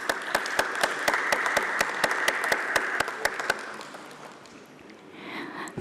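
Audience applause at a company stock listing ceremony, steady and dense for several seconds with a few sharper individual claps standing out, then thinning and fading near the end.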